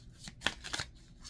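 Playing cards being shuffled at close range, two quick riffling bursts with soft papery flutter and light handling noise, no voices.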